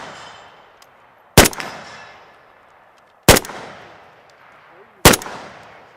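A Century Arms VSKA rifle fires three sharp, loud single shots at an outdoor range, spaced about two seconds apart, each cracking hard and then trailing off in a long echoing decay.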